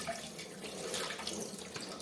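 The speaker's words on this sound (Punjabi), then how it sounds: "ਇਹਨੂੰ ਹੀ ਇੱਕ ਵਾਰੀ ਨਾ ਟੈਪ ਦੇ نیچے ਕਰਕੇ ਨਾ ਪਾਣੀ ਪਾ ਲਾਂਗੇ" A kitchen tap pours a steady, soft stream of water over fresh paneer to rinse it, running evenly without interruption and with no voices.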